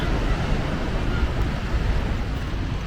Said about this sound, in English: we arrived to the beach